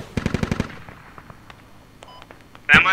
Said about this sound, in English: Someone with the 50 shooting at him.